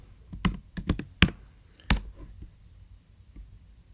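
Typing on a computer keyboard during insurance eligibility data entry: a handful of sharp, close key clicks in an uneven burst over about two seconds, then near silence.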